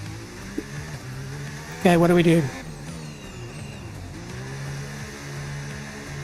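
An F1 race car engine in the F1 video game revs in one short, loud, rising burst, then drops back to a steady low drone, with someone talking over it.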